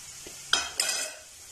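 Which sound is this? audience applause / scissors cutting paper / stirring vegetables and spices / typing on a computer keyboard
stirring vegetables and spices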